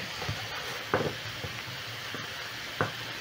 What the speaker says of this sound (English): as my minced meat is cooking